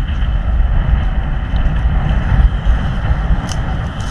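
Strong waves hitting a small fishing boat at sea during ultralight lure fishing, a continuous low rumbling wash with wind buffeting the microphone, steady and loud throughout.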